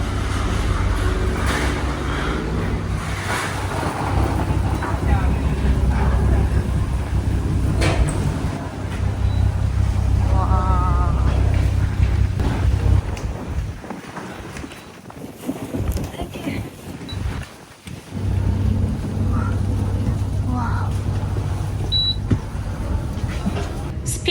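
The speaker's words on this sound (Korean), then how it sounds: "이게 스피드보트라서 페리보다 좀 빠르거든요" Speedboat crossing to Bintan, Indonesia: a steady loud engine roar with rushing water and hull noise runs throughout, dipping briefly in the middle, with voices talking faintly underneath.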